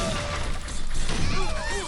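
Cannon fire in a video game during an attack on a fortified base: a dense, loud volley of blasts and crashes with whistling projectiles, overlapping in a short burst of battle noise.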